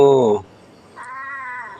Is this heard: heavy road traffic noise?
no